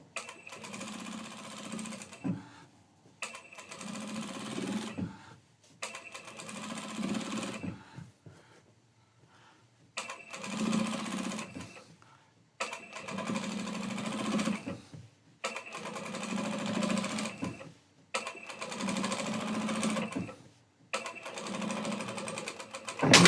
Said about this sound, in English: We're going to do the other top stitching, from the border to the main center strip.